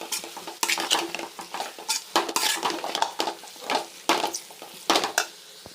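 Chicken wings tossed with onion, tomato, ginger-garlic paste and mint in an oiled pan: close, rhythmic scraping and clanking of a spatula against the pan over a light sizzle.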